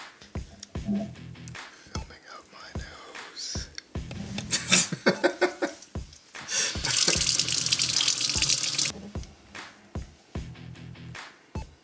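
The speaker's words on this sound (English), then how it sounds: "wash your eggs, wash them" Tap water running over fresh eggs being washed in a sink, with intermittent splashing bursts, a steadier stream later, and sharp knocks between, close by.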